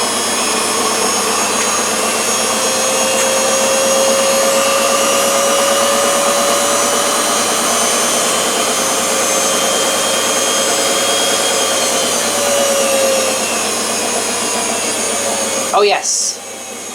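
A machine winds up toward its maximum spin speed, a loud, steady mechanical whir with a rising whine that holds for many seconds before a brief knock near the end.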